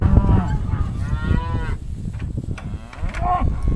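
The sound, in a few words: cows mooing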